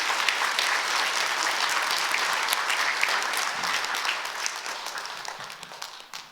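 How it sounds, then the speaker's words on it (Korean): Dense, warm applause from a church congregation during a Sunday service, sustained clapping filling the room and tapering off toward the end. "자, 인사할 때 우리 다시 한번 뜨거운 박수로 격려하겠습니다."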